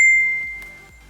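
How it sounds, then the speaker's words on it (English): A phone notification ding rings out at the start, a bright sustained chime that slowly fades over about a second, loud and alone with no talk. "I hear you, phone."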